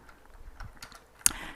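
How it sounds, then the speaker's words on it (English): Keys on a computer keyboard clack in a loose, irregular patter of soft taps, ending in one sharper, louder key strike; close and quiet, with no voices. "And I'm going to start typing that in."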